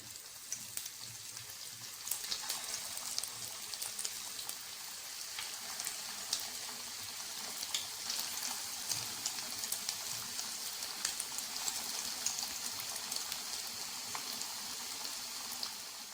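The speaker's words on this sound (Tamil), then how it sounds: "இப்போ ஒன்று ஒன்றா உள்ளே போட்டு பொரிச்சு எடுத்துடலாம்" Paneer cutlets fry in hot oil, giving off a faint, steady crackling sizzle, fine and continuous like light rain, with no talk.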